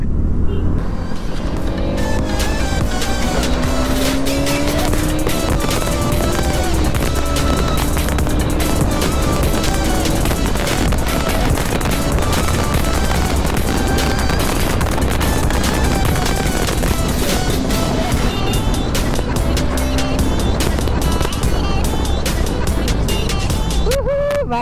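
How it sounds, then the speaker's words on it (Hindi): A Bajaj NS200 BS7 motorcycle on a Sunday street ride accelerates hard through the gears, its engine roaring loud and close while the revs rise and fall with each shift, and wind buffets the microphone throughout. "गियर तो भाई पूरे जोर के साथ डाल रहा है।"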